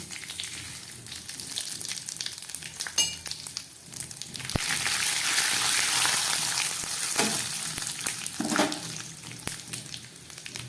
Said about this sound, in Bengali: তেলটা গরম হয়ে গেছে আমি দিয়ে দিচ্ছি দুটো শুকনো লঙ্কা এখানে দিয়ে দিচ্ছি কয়েকটা তেজপাতা আর এছাড়া দিয়ে দিচ্ছি একটু পাঁচ ফোড়ন